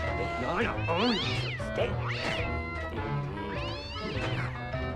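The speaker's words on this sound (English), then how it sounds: "there's a cat finally" A cat meows repeatedly inside a video game, several drawn-out, rising and falling cries at moderate loudness, mixed with someone talking over the game sounds.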